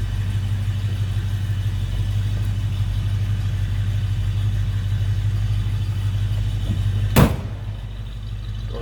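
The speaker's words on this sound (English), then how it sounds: "A nice sounding Ford V8 under the hood." A 1966 Ford Mustang convertible's 289 V8 idles with a steady low rumble close by, and a single sharp thump near the end, like a door or lid closing.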